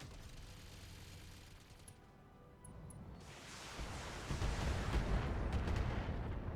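Mech weapons fire in a modded Battletech battle, a Hetzer and Prowler trading shots: a dense rumbling barrage of booms that swells louder and heavier toward the end, with no voices.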